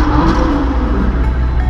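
Lamborghini Huracan supercar engine revving on a city street, a steady loud engine roar that holds throughout without any break or silence.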